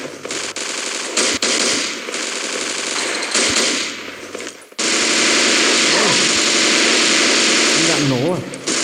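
A six-barrel machine gun fires in the video game CDHT in sustained, loud bursts, with a brief pause before a long continuous stream of fire; speech is faintly present beneath.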